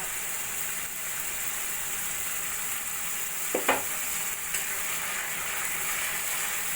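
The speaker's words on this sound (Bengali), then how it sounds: "পোস্ত বাটাটা ভালো করে মশলার সঙ্গে মিশিয়ে নেব" Poppy seed paste is stirred into spices in a frying pan for an egg posto dish, a steady sizzle throughout with one brief scrape of the spoon midway.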